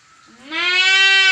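A human voice imitates a goat's bleat with a single rising, wavering nasal "maa" call, loud and close, held for about a second.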